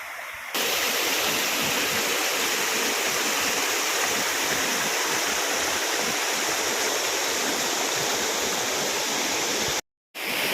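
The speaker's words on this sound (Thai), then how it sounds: "เป็นน้ำตกธรรมชาติเลยนะครับ" Huai Khe waterfall, a natural waterfall in Thailand, roars in a constant, loud rush of broadband water noise, unbroken except for a brief dropout near the end.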